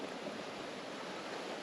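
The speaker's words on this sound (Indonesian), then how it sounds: "Arusnya emang deras di sini." The fast current of the Kali Srengseng river, swollen by flooding and carrying trash past a broken bridge, gives a steady, faint, even rushing of water with no breaks.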